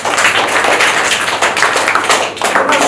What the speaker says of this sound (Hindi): क्या बात है, ताली बजाइए।